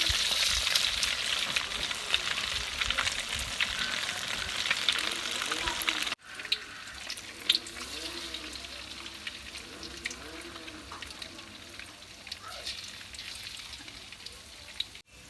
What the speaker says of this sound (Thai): ก็แม่ครัวยังทอดยังไม่ทันเสร็จนะครับ